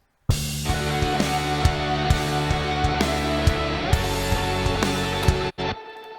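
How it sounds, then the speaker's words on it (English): A basic rock ensemble of drums, electric guitar and bass plays a steady, driving groove with regular drum hits, sustained guitar chords and a bass line, loud and close, before stopping abruptly with a short tail near the end. "So the basic rock ensemble, drums, guitar, and bass sounds like this."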